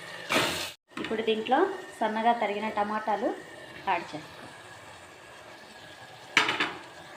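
Chopped tomatoes fry in a pan for egg curry, a soft steady sizzle with a spatula scraping and clinking against metal, a voice speaking over it at first.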